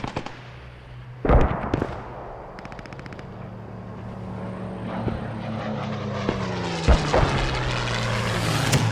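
Mortar explosions in a World War II team shooter match on the PlayStation European ladder, heavy booms landing under a steady engine-like drone, one loud blast early and others scattered through the clip.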